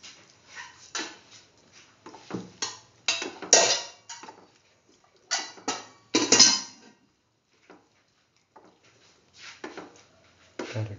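Kidney beans and potatoes stir-fried in a pan, heard as bursts of utensil scraping and metallic clinks coming in irregular clusters with quiet gaps between them.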